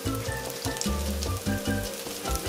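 Saltfish fritters frying in a pan sizzle and crackle steadily, a close, continuous spatter with rhythmic low bumps from the pan, no one speaking.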